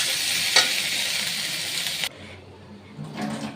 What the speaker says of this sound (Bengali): আদা বাটা দিয়ে দেব।